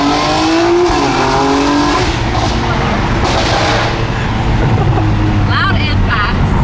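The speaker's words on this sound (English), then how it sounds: "the burbles are loud" A performance SUV's exhaust burbles loudly, rumbling continuously with sharp crackling pops close by, while people talk over it.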